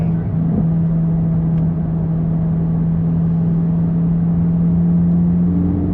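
Chevrolet Corvette C8 Z06 heard from the cabin while driving, a loud steady low engine drone that holds an even pitch and rises slightly near the end.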